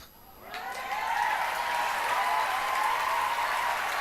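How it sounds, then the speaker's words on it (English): Audience applause swells after a brief moment and carries on as a steady, dense wash of clapping from a large crowd. "Look at everyone applauding"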